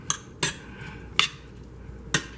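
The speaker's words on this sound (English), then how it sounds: "So I'm going to stir the vegetables a little bit." Spoon stirring frozen vegetables simmering in a pot, heard as four sharp, separate metallic clinks and knocks against the pot over a quiet background.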